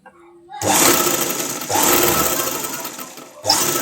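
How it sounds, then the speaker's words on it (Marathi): A sewing machine runs a topstitch along a dress in three fast, steady bursts of whirring stitching separated by brief pauses. It sounds close and loud, with a faint voice at the very start. "वरनं आपण दाब शिलाई देणार आहोत"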